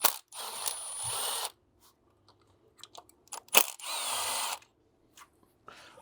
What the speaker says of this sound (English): Just using an E8 on a small impact just to speed up the process.